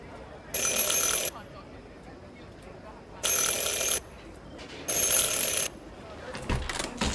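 Three bright, loud ringing bursts of a bell in the video game Syberia: The World Before, each lasting under a second with short pauses between, over quiet room tone.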